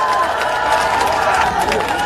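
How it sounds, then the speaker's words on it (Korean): Rally crowd in Yongin greeting Han Dong-hoon with dense, steady applause and cheering, a continuous loud roar of many clapping hands and voices throughout. "힘찬 박수로 맞이해 주시기 바랍니다."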